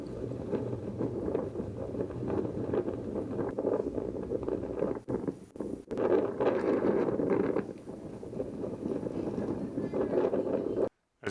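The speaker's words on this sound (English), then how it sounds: "As you can see, it was pretty windy there." Strong wind gusting across the summit of Mount Madison in the Presidential Range, a steady, loud roar buffeting the microphone with brief lulls and no talk.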